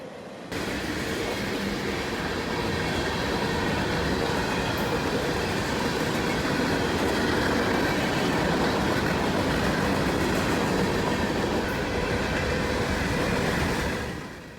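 Daily mixed freight train Q452 from Miami to Winston rolling past on Florida's Vitus subdivision, a long steady roar of wheels on rails with a rumbling, clattering texture, loud and constant, heard alone for several seconds.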